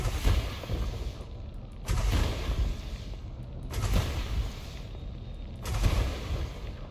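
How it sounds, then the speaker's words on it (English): Missiles and multi-cannons fire in the space combat game Elite Dangerous. The sound is a steady, loud barrage of booming, rattling bursts that swells roughly every two seconds. "Multi-cannons, missile rack. Yeah, I got some missiles."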